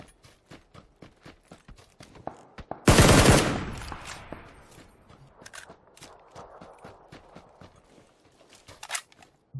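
Rapid video game gunshots crack in bursts, with one loud sustained volley in the middle and scattered single shots throughout, sharp and close.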